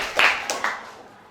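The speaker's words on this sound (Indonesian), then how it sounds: "Beri tepuk tangan untuk kalian." A small group of children claps briefly in a classroom setting, a few scattered hand claps peaking then fading quickly, close and moderately loud.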